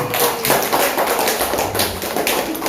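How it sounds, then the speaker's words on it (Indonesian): Applause from an audience at an Islamic madrasah gathering, a steady crowd of clapping hands sustained and fairly loud throughout, with no voices over it. "Tepuk tangan."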